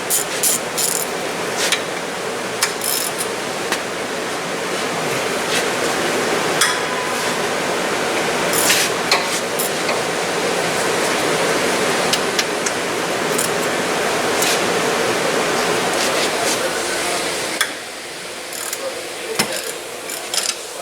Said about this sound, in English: we're gonna use ratchet